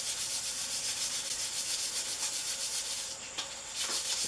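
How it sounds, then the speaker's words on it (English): Steady hand sanding of chrome bumper trim on a Town Car with 320-grit sandpaper, a continuous close rubbing hiss with a brief pause near the end, no voices. "Sand out all obvious imperfections that you can see with your naked eye"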